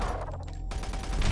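Dense, continuous gunfire from the video game Doom 3 BFG Edition: heavy overlapping shots form a loud, sustained barrage with no gaps across the short burst.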